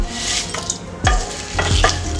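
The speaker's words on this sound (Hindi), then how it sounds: "अब मैं भूनूंगी लाल मिर्च।" Red chillies sizzle as they fry in a pan, with steady frying noise and several sharp scrapes and knocks of a spoon stirring them against the metal.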